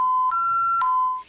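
A home burglar alarm sounds alone, a loud, steady electronic tone broken by short chirps at regular intervals, close and piercing.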